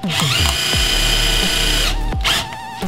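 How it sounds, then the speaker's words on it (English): A power drill whirs loudly and steadily, revving up and down in short bursts as it drives small screws close by. "you can just use a regular apex on your drill to drive these things"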